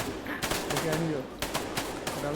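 Gunfire bursts in the co-op prison-escape video game A Way Out, a rapid string of sharp, loud shots in quick volleys, with players talking over the fighting.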